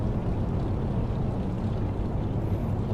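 Twin piston engines of a DC-3 drone in the X-Plane 11 flight simulator, a dense, steady low roar filling the cockpit, loud and unbroken with no one talking.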